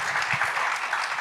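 Audience applause for a panel at a legal discussion on gender-based violence and femicide, a short burst of dense clapping from a crowd.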